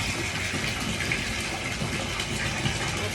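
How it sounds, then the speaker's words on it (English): Running water rinses a fine wool fleece during scouring, a steady close gushing flow like a tap filling a tub, continuous and fairly loud with no speech. "You want to try and rinse it as quickly and efficiently as possible."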